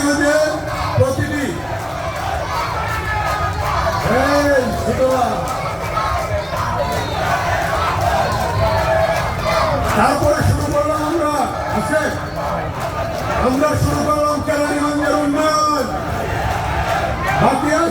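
Large crowd at a political rally chanting slogans in loud repeated surges, with a voice over a loudspeaker cutting in between the chants.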